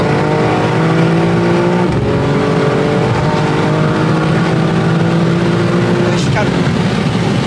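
A 912-horsepower BMW M3 roars steadily under hard acceleration on a French motorway near a toll, its engine drone rising in pitch through the gear with a brief shift, while people talk excitedly inside the car.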